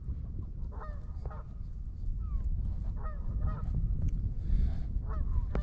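Geese honk repeatedly as a flock lands on the ice of a frozen lake during ice fishing, a rhythmic series of nasal calls at moderate distance over steady outdoor wind noise.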